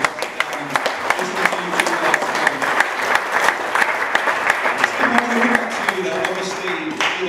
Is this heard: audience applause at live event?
yes